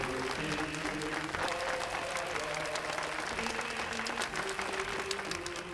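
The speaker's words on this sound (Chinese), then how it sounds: "请鼓掌" Steady crowd applause in a wartime inn scene, continuous dense clapping at low level with faint voices underneath.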